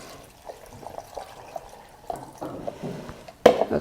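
Water is poured while cooking a peanut dish, giving soft, intermittent splashing and trickling sounds, fairly quiet and close, with a sharper splash near the end.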